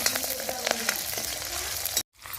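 Finely chopped garlic, ginger and chili sizzle in hot oil with asafoetida in a pan, a dense steady crackle with occasional pops and stirring, close and fairly loud, briefly cutting out near the end.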